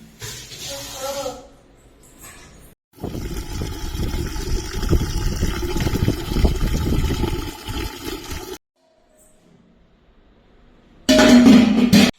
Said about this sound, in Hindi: चलते सीधे बाहर जो है ना पानी पीने का भर लेते हैं